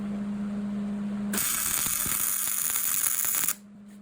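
Ratchet wrench unbolting a part before welding, a fast continuous clicking ratchet run of about two seconds, close and loud over a low steady hum.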